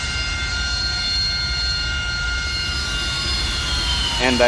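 Harrier jet engines in a flight game give a steady, loud turbine whine and roar with a few sustained high tones, ending in a short rise of noise while a voice talks.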